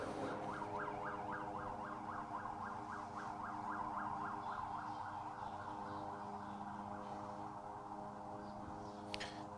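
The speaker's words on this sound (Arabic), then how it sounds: "اصوات سيارات الاسعاف التي تتحرك" Ambulance sirens wailing in a rapid up-and-down pattern, fairly distant, in the Jenin refugee camp during clashes, over a constant low rumble of traffic and background noise.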